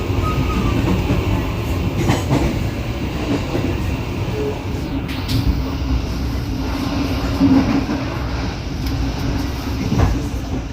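Steady low rumble and rattling of a moving Matarmaja economy-class train heard from inside its dining car in Indonesia, with continuous track noise, faint clanks and a brief creak, no speech.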